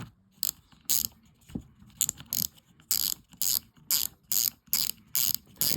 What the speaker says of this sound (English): There's the clicker. That's that clicker on that clicker cog.